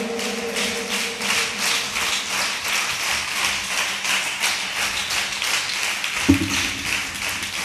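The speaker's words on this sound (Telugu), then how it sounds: "ఒకసారి గట్టిగా తల్లులందరికీ చప్పట్లు కొట్టండి" A church congregation claps for all the mothers during a Mother's Day sermon, with sustained, dense applause at moderate distance that holds evenly across the whole stretch and has no talk over it.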